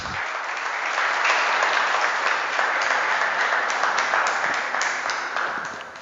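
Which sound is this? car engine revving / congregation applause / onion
congregation applause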